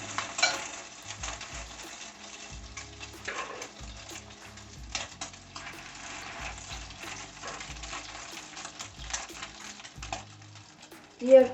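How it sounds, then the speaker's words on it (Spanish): Flattened chicken patties fry in a skillet with a soft, steady sizzle, punctuated by scraping and spoon taps on the pan and a louder knock at the end, while someone talks quietly over it. "pasamos la tortita aplanándola un poquito al sartén"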